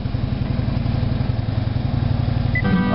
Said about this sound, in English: Close the door, engine's running on the car.